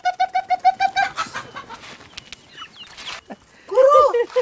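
Chickens at a small farm give a quick run of repeated clucks, then a pause of rustling and faint voices, followed by a louder, closer clucking call at the end.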